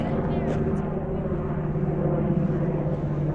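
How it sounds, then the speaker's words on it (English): A steady low droning rumble from a helicopter overhead, continuous and fairly distant, with no clear breaks. "There's a helicopter up there."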